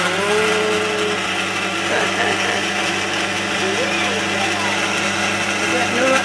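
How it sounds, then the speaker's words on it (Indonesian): An electric blender runs steadily, blending strawberries into a smoothie, its motor a loud continuous whir throughout, with someone talking over it. "Terus kita blender."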